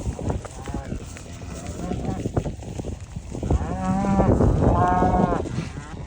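Cattle on a grassy farm paddock give several drawn-out moos that swell in the second half. Hoof and movement noise runs beneath them, and a person talks in the background.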